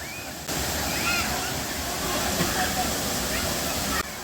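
Thoomanam Waterfalls in Wadakkancherry, swollen by monsoon rain, a steady roaring rush of falling water, broad and continuous, loud and close with no breaks.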